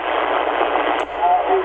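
CB radio static received through a Yagi beam antenna: a steady, band-limited hiss that briefly dips around the middle, with faint tones appearing near the end.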